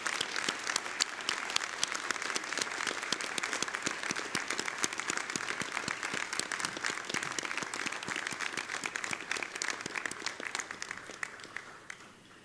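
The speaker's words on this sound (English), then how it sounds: "Let's express our gratitude with a big round of applause." A large graduation ceremony crowd in Launceston breaks into sustained, dense applause of thanks, steady and full for about twelve seconds before tapering off at the end.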